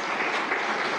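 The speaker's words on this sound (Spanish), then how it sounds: "Un aplauso, pues, para Pavel" An audience claps in a brief, dense burst of applause for a young skateboarder's trick, steady and fairly loud throughout the short moment.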